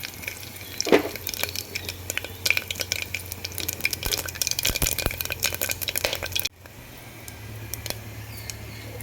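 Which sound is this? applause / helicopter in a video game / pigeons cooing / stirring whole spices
stirring whole spices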